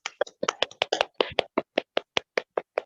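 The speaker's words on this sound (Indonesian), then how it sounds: "Ayo teman-teman beri tepuk tangan ke Mbak Inayah." Students in a primary school class clap their hands in a quick, steady rhythm of about fifteen distinct claps, close and moderately loud, with no talking.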